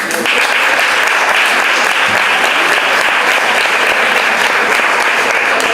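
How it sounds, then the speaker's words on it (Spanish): Loud, sustained applause from a lecture audience at a talk on the San Roque station and Gibraltar smugglers, a dense unbroken roar of clapping close and even throughout. "Fuerte aplauso."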